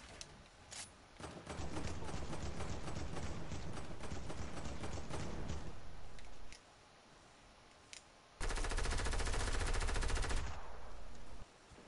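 Rapid automatic gunfire in the battle royale game Fortnite, sustained loud bursts with a short quiet gap before another heavy volley.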